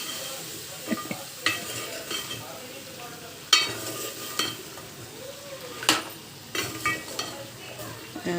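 Goat curry stirred and turned over in a sizzling pan, with a soft continuous fry under repeated spoon scrapes and clinks against the metal, close and moderately quiet.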